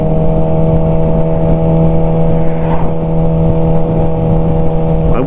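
A Suzuki GSXR 600 K7 motorcycle engine droning loudly at steady high revs while being ridden, a strong constant tonal hum with light wind rush and no voices.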